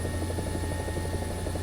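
A helicopter in War Thunder's simulator mode drones steadily and loudly, a constant rotor and engine roar with no pauses and no talk.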